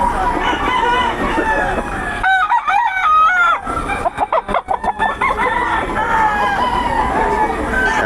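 Chickens cluck and a rooster crows loudly and close by, its drawn-out calls rising over a steady background of crowd babble and chatter at a market selling fowl.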